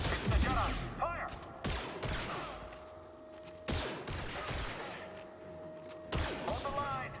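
Blaster fire rings out in Star Wars Jedi Survivor, a video game, as a rapid series of sharp shots amid battle noise and voices, loud and close with repeated bursts.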